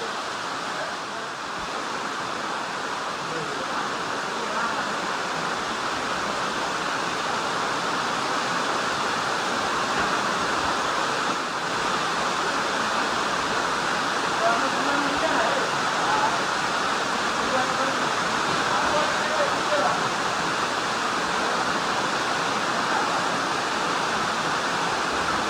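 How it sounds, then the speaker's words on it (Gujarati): Water from a hillside spring flows steadily after rain, a continuous broadband rush like a small waterfall, loud and close and unchanging throughout. "આ પાણી ચાલુ જ હોય, કોઈ દી ખૂટતું નથી."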